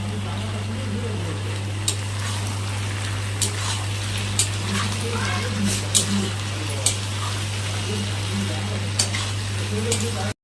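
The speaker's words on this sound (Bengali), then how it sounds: "গরম মশলা দিয়ে আঁচটা কমিয়েই একটু নাড়াচাড়া করে নেব" Spices with garam masala stirred in a pan over low heat, soft steady sizzle with a few sharp utensil taps and clinks against the pan, over a constant low hum.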